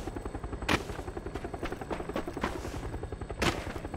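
A plane flies over in a battle-royale video game with a low, throbbing engine drone pulsing steadily throughout, broken by two sharp bangs.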